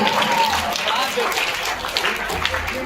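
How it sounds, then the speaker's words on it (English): At an English-speaking academy's award ceremony, a crowd claps for a student champion; the applause is steady and fairly loud, with voices mixed in throughout. "Please clap for this guy."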